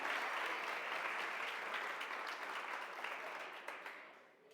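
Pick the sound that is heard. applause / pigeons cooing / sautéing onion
applause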